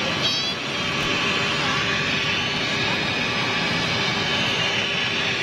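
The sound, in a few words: Ryanair Boeing 737 jet aircraft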